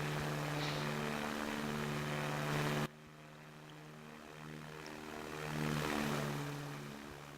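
A propeller airplane in the SimplePlanes video game drones steadily with a continuous engine hum, cutting abruptly to a slightly quieter, rougher tone partway through and then swelling again.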